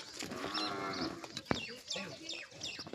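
Cows low close by in a rural setting, with a couple of moos among faint bird chirps and some background voices.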